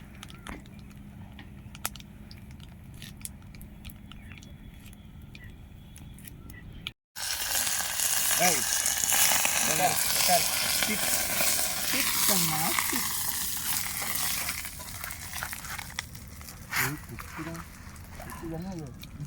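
Curry leaves and dried chillies hit hot oil for country chicken chukka, a sudden loud sizzle and spatter bursting in after a quiet stretch and then continuing with crackles, while people talk nearby.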